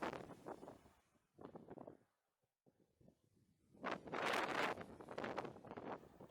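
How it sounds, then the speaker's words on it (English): Gusting wind at an outdoor fishing pool during a match, buffeting the microphone in loud rushing bursts with brief lulls between them. "Wind's picked up again."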